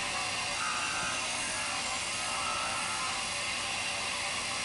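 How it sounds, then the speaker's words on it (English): A disc sander grinds a wooden zero-clearance miter saw insert down to a marked line, giving off a loud, continuous, even whir that never lets up, with no talking. "take it on over to the disc sander and sand things down right up to that line"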